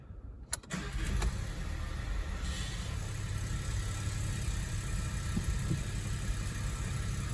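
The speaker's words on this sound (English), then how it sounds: "So we're just going to go ahead and start the engine." A VW Polo engine cranks briefly and catches, then settles into a steady, even idle that holds for several seconds, close to the car with no voices.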